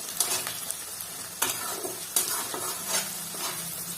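Chopped tomatoes sizzle in a pan as a spoon stirs them, with a few sharp scraping clicks over the steady frying hiss. No voices.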